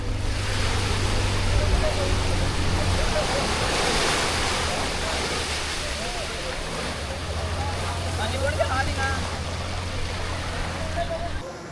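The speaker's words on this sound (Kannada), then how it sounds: "ಬೋಟ್ ಹೋಗ್ತಾ ಇದೆ." A boat passes on the sea off Honeymoon Beach in Goa, its motor drone blending into steady surf and wind buffeting the microphone, with a voice speaking briefly over the continuous wash of waves.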